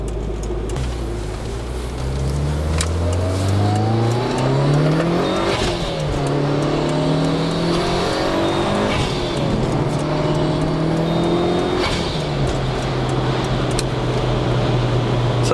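Mitsubishi Lancer Evo engine revving up repeatedly through the gears, rising turbocharged pitch climbing, dropping at each shift and climbing again, loud and close with no talk over it.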